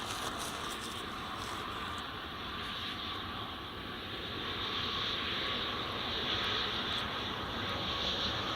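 A steady, fairly loud aircraft engine roar at Glasgow Airport, a broad continuous rumble with a bright whine that swells slightly toward the end, with no voices.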